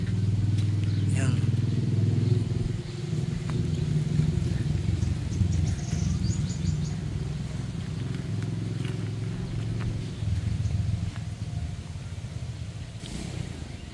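A Kymco Exciting 400 motor scooter with a 399.6 cc engine runs nearby, a steady low idling rumble throughout while someone talks over it.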